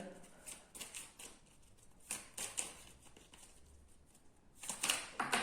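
Tarot cards being shuffled in quick riffling bursts, close and fairly quiet, with brief pauses between rounds.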